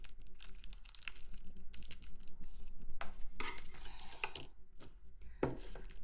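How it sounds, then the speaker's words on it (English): Paintbrushes being unwrapped from plastic packaging, with close, faint crinkling, tearing and rustling in irregular bursts and no talking. "Maybe let's just take them out of their packaging."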